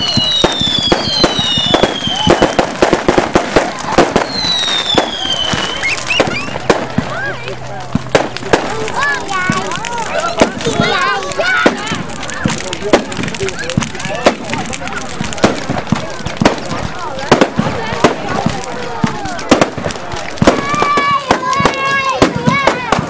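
Fireworks on Bonfire Night, a long run of sharp crackling bangs and pops coming thick and fast, with several rising whistles near the start and end, and people talking in between.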